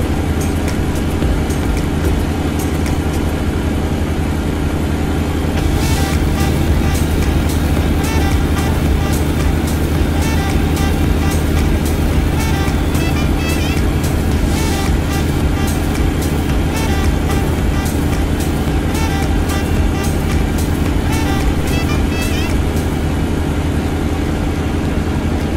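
A truck engine runs at a steady drone while driving in American Truck Simulator, with a continuous low rumble and a constant loud hum and no talk.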